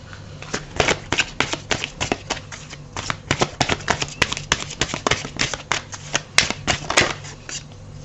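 Oracle advice cards are shuffled and drawn during a work-themed card reading, a dense run of crisp riffling flicks and slaps close by, with no speech.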